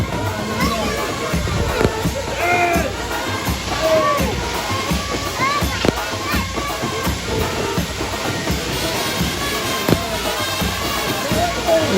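Water splashing and rushing steadily from a waterfall, with voices and shouts from children and people nearby mixed in throughout.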